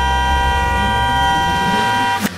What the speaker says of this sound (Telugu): వెనకాల నుంచి ఎవరైనా హార్న్ కొట్టాడు అనుకోండి